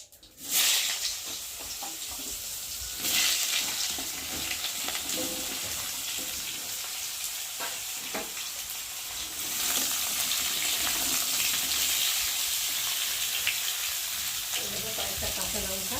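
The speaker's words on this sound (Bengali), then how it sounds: "দিয়ে সবজিগুলোকে ভালো করে ভেজে নেব।" Chopped vegetables with green chillies for a Malabar spinach dish fry in hot oil with tempering spices, a steady close sizzle that flares louder when food is added and stirred, continuing without pause.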